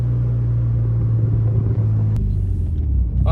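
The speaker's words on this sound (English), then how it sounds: "So let's give it a little downshift." A Mitsubishi Evo 9 engine drops a gear with a deep, steady rumble close up that holds loud throughout, easing slightly near the end without any speech.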